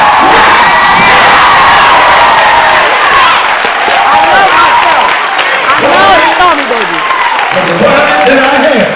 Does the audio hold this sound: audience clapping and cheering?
yes